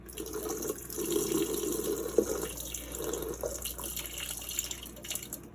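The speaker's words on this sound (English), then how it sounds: "So I'm going to pour it one more time." Water pours and splashes over tomato seeds being rinsed in a container, a steady close trickle with small splashy bursts lasting throughout.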